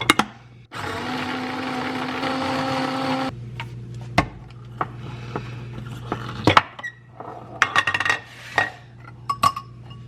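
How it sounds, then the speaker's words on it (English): Mini food processor grinding toasted bread into breadcrumbs, a steady whirring motor running for about two and a half seconds, then clinks and rattles of the bowl and lid being handled, close up with no talking. "I'm gonna take my mini food processor and grind it up."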